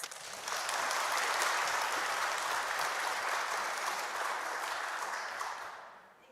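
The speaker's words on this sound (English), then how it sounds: "Give her applause." An audience in Mauchline Church claps warmly for several seconds at the Holy Fair, a full, even applause that swells quickly and then fades out at the end.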